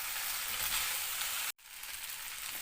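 Chow mein with chicken and vegetables frying in a pan with stirring, giving a steady loud sizzle that cuts out for a split second before carrying on.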